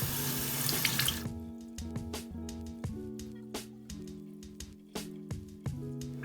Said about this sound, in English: Now we're gonna rinse the rice off